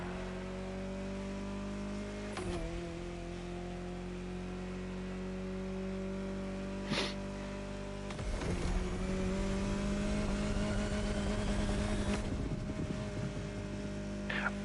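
A race bike's engine in a street racing video game holds a steady, loud droning whine, with the revs climbing and shifting in pitch through several gear changes.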